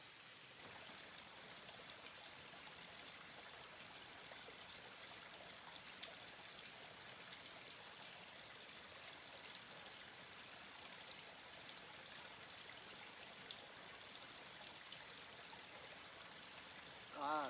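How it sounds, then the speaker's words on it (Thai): Water from a stream flows steadily at a rural reservoir, a continuous even rushing wash that holds at the same level from start to finish, with no voices over it. "ก็จะได้ยินเสียงเป็นพวกน้ำไหลนะครับผม"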